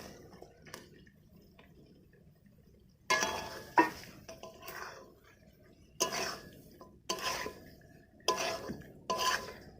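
Fried cauliflower and potato pieces being stirred into a tomato masala in a pan: a quiet start, then a series of short scraping, clattering bursts of stirring, fairly close.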